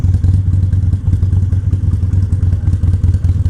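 Yamaha Maxim motorcycle engine running steadily while riding on a commute, a loud, close, continuous low rumble with a throbbing pulse and faint clattering, heard alone without talk.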